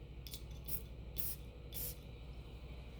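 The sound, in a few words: spraying Abdul Samad Al Qurashi perfume bottle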